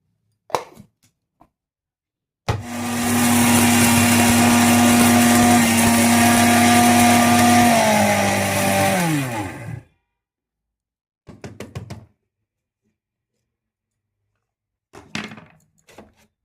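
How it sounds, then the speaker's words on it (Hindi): A mixer grinder grinding spices whirs loudly for several seconds, its motor pitch dropping as it winds down, with a few clattering knocks of the jar before and after. "मसाले सारे मिक्सी के जार में डालकर पीस लूँगी"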